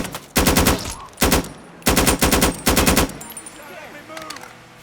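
Bursts of rapid automatic gunfire from weapons in the Mafia 3 video game, four loud close volleys separated by short pauses, with a few distant shots trailing after.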